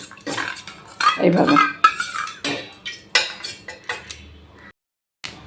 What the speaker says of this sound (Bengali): এবার একটু জল দিয়ে কর্নফ্লাওয়ারটা গুলে নিলাম